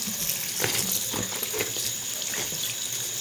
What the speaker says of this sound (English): Maybe I should rinse this one first.